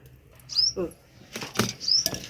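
A few quick bursts of wing flaps from a dove, short and close, mixed with small rustles and a couple of high chirps.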